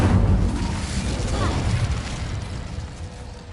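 An Incendio fire spell is cast in a video game, giving a loud, low booming burst that rolls into a rumbling whoosh and slowly fades over several seconds.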